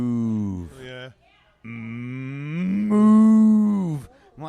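A human voice imitates cows mooing in long, drawn-out bovine lows that rise and bend in pitch, two sustained calls separated by a short pause, loud and close to the microphone.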